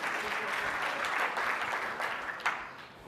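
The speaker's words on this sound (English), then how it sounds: "Clap that up because it's real shit." Audience applause at a personal branding talk: steady, dense clapping from a crowd that holds level for most of the stretch, then thins and fades near the end.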